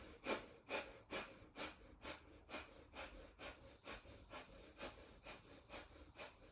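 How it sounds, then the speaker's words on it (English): Rapid kundalini yoga breath of fire, forceful nasal exhales pumping at about two per second in a steady, even rhythm, close and clear with no talking. "see if you can do a breath of fire."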